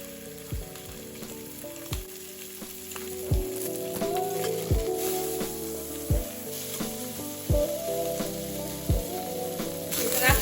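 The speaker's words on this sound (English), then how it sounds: "I'm just gonna season it a bit and just let it brown on both sides." Pork sizzles and browns in a pan, a soft continuous frying hiss broken by regular knocks and scrapes of a utensil turning the meat, fairly quiet and close, with no talking.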